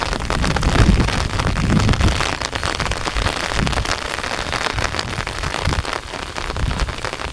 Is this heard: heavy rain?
yes